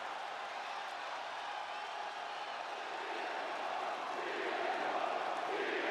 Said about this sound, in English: But there's the crowd, you can hear them.